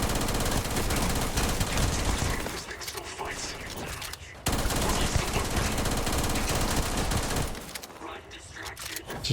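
Sustained automatic gunfire in Starfield rattles in long, loud, rapid bursts with brief gaps between them, while a voice talks over the shooting.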